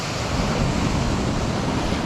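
Waves crash on the beach at Golem, Albania, in a loud, continuous roar of surf. Wind buffets the microphone throughout, and no voices can be heard.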